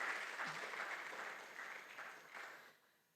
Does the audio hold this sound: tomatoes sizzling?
no